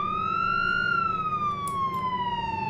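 A police car siren from the Flashing Lights emergency-vehicle game wails steadily, its tone sliding slowly up and then down over a low engine hum.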